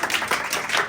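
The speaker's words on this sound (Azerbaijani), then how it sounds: "Alqışlar." An audience at a farewell evening breaks into a brief, dense burst of applause, many hands clapping together at close range.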